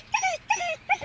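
A pet dog tied to a tree in a forest, whimpering in three short, high yelping cries in quick succession, close and clear with no other sounds.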